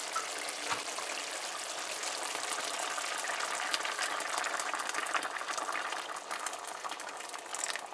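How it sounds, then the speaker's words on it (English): Steady rushing and bubbling of water poured into a pot of cooking dal, a continuous hiss with faint trickling, fairly quiet and close. "So now we're gonna add the water to cook the dal."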